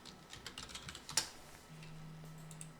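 Keystrokes on a computer keyboard typing a search query into a web search bar, a quick run of close, light clicks with one sharper tap, then a low steady hum.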